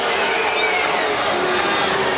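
Volleyball arena crowd at a men's college match, Hawaii versus UC Irvine, reacting unhappily to a replay decision: a steady, dense roar of many voices with scattered shouts and whistles, loud and continuous.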